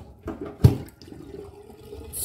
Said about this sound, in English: The water has already flushed out, but in the other sink there is still water.